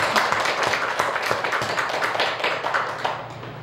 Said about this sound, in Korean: 우리 다 같이 박수로 한번 하겠습니다.